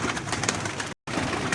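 Rampuri pigeons coo close by in a soft, throaty, rolling burst, broken by a moment of silence before the cooing resumes, with no talk.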